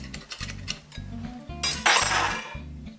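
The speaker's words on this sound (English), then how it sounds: "So just loosen it up by going round it with a knife." A metal knife scrapes and clinks around the edge of a cake tin to free a chocolate and orange sponge, a few light metallic taps followed by a brief bright scraping rasp near the middle, close and without voices.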